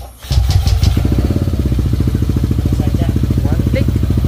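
A Yamaha Aerox 185cc scooter catches on a single press of the starter and settles at once into a steady, even idle, close and loud, with a voice briefly over it.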